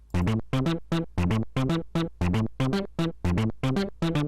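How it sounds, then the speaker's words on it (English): An organ-like additive synthesizer plays short, repeated chords in a steady rhythm, each note plucked and quickly decaying, bright and clear with no voices. "It's an additive synthesizer, so it's kind of like an organ sound."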